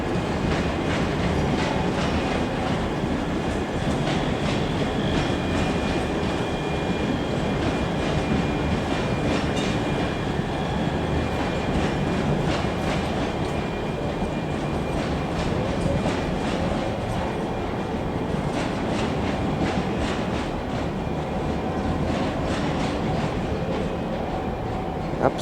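A Scotrail HST passenger train from Aberdeen rolls through Edinburgh Waverley station with a steady, loud rumble and rhythmic wheel clatter lasting throughout, no voices over it.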